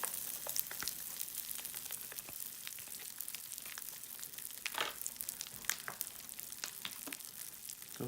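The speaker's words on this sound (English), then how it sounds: "it's still sizzling because the candies are still popping" Pop Rocks candy in water fizzing with a constant faint sizzle and scattered sharp crackling pops, close and quiet, with no talking.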